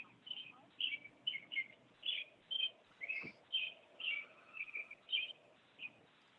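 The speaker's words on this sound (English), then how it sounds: "I know, I hear a bird too." A bird chirps repeatedly during a planning board meeting, short bright calls coming in a steady series of bursts, moderately loud over faint room murmur.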